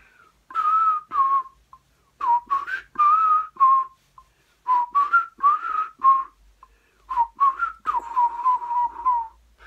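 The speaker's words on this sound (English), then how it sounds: "I'm not so good at whistling" Someone whistles a simple tune alone in short melodic phrases with brief pauses between them, clear and close.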